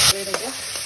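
Tomato paste hits hot oil in a pan for a potato curry with lungs, giving a brief loud sizzling burst followed by quieter stirring and frying.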